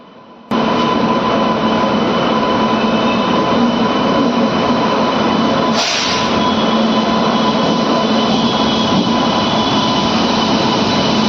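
The Lucknow Chhapra Express is being brought into platform 1, giving a loud, steady rumble of a train moving close by, broken once by a short, sharp burst partway through.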